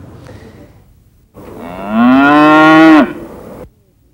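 A single cow lets out one loud, drawn-out moo close by, rising and then holding steady before cutting off, with nothing else around it.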